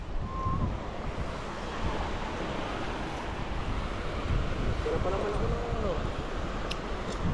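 Steady wind roaring and buffeting the microphone outdoors by the sea, with surf-like rumble throughout and faint voices briefly underneath.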